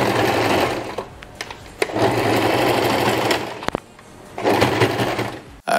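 A sewing machine backstitches hair wefts for a wig, giving bursts of fast rhythmic stitching with short pauses and clicks between runs, close and loud.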